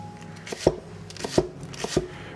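Leek being chopped on a cutting board for leek and potato soup, four crisp knife strokes at an uneven pace, close and clear, with no talking.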